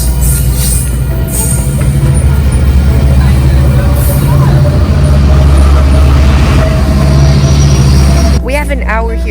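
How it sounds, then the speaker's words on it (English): A Metrolink passenger train passes a station platform with a loud, steady low rumble and broadband roar that holds for about eight seconds before easing, while people talk over it. "Oh, try to race the train."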